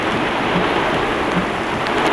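Heavy rain from tropical storm Debby pours down steadily, a dense, loud, unbroken hiss of drops on surfaces with no voices.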